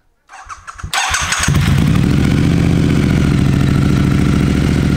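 A motorcycle engine fires up after a brief clatter and runs loud and steady, a close, continuous throbbing rumble.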